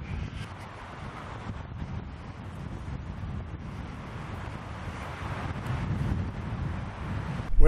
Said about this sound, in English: It's a breezy, breezy day here.